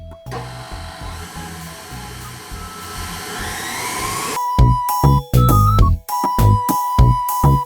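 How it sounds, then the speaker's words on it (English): Electric stand mixer beating cake batter for cake pops at medium speed, a steady whirring motor hum that builds over the first half, followed by louder clattering and knocking bursts near the mic. "And then turn your mixer onto medium speed."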